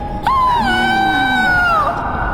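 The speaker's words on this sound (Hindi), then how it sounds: "दुलारी चिल्लाती है।" A woman's drawn-out, wavering high scream sounds in a dramatized Hindi horror story about a witch. It is loud and close and rises sharply before sliding downward and breaking off.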